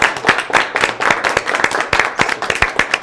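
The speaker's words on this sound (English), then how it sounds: "We can give ourselves a big applause for inspiring each other." Group applause at a corporate talks event, a fairly small crowd clapping with distinct, uneven individual claps close by, lively and continuous for a few seconds.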